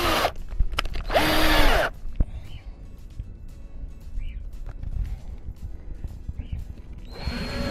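Power drill boring a pilot hole into wood while building a top bar swarm box, with a near whirring burst at the start and again at the very end, quieter workshop noise between.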